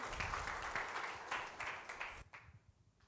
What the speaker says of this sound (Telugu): మాస్టర్ గారిని చప్పట్లతో ఆహ్వానించుకుందాం